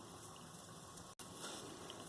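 Water boiling steadily in a pot under a steamer with broccoli, a constant soft bubbling hiss, faint and even, with one brief cut near the middle.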